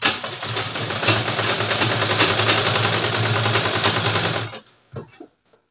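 An electric sewing machine stitches a kurta lining, a steady loud mechanical whir running without pause for about four seconds, then stopping abruptly, followed by a few faint handling clicks.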